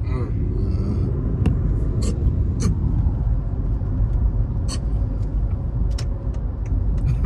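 A Mercedes-AMG GT63 with yellow brake calipers passing on a Houston street, a steady broad traffic rumble with a few sharp high squeaks and clicks, while people talk over it.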